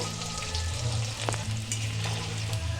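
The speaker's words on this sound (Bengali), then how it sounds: "আমি এর মধ্যে পেঁয়াজটাকে দিয়ে দিলাম, দিয়ে আলু আর পেঁয়াজটা ভালো করে ভেজে নেব" Potato and onion frying in a pan, a close steady sizzle with a few stirring clicks and scrapes and a low hum underneath.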